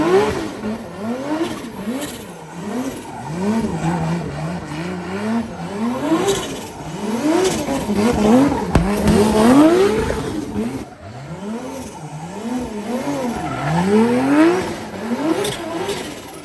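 A 1,000 hp car with a turbocharged 3.4 stroker 2JZ engine and a 6-speed sequential gearbox revs hard and loud, with repeated rising and falling sweeps of engine pitch running without pause.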